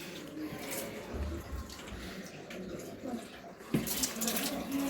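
Water from a pipe flushing spilled lentils out of a wall cavity indoors, a steady splashing wash with a sharper burst near the end, a voice talking faintly underneath.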